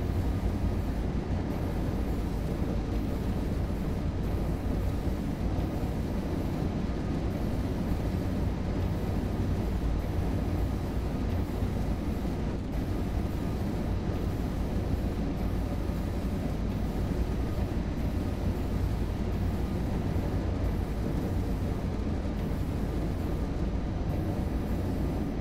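An ICE3 high-speed train passes in the Train Sim World 3 simulator, a steady low rumble and rolling noise holding constant and fairly quiet throughout, with no voices.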